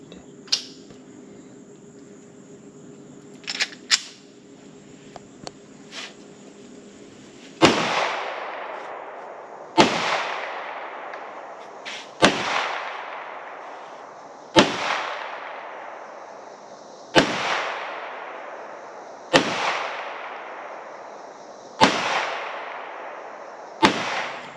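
Shots from an FNX 45 pistol and a Canik handgun ring out outdoors near McClellanville in Francis Marion National Forest. Several loud, evenly spaced reports come about every two seconds, each trailing off in a long echo, after a few quieter clicks and knocks.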